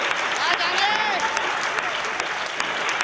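Audience applause at a Hindi comic poetry gathering, a dense, even roar of clapping that stays loud and unbroken throughout, with a voice faintly audible beneath it.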